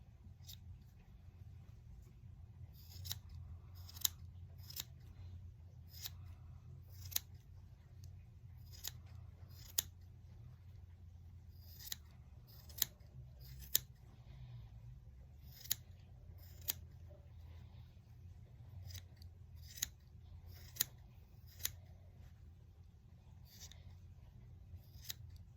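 Scissors snip yarn to trim a fluffy pom pom, with sharp, quiet cuts arriving irregularly every second or so over a low background rumble.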